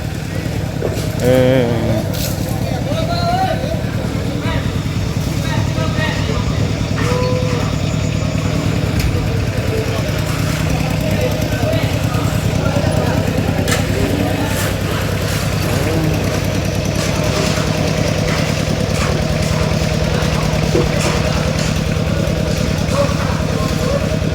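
Tractors and other vehicles idle and rumble nearby in a steady, continuous engine drone at a village gathering, with people talking over the noise throughout.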